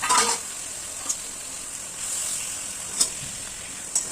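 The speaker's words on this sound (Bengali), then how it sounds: "হালকা হালকা করে ভেজে নেব পেঁয়াজটা যখন হালকা হালকা ভাজা হয়ে আসবে" Chopped onions sizzle steadily in a hot frying pan for a fish-head muri ghonto, a continuous hiss with a few brief clinks of stirring against the pan, no talking.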